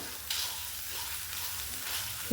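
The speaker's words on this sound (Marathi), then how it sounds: "छान आपण असं एक दोन मिनटं परतून घेऊया" Khoa (milk solids) sautéing in a pan for a makhana kheer, giving a steady, close sizzling hiss that holds evenly throughout with no voices.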